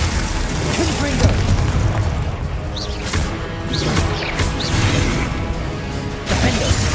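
Repeated Confringo fire-blast explosions and crashing impacts during a Hogwarts Legacy battle, loud and continuous, with whooshes mixed in and a voice talking over the fight.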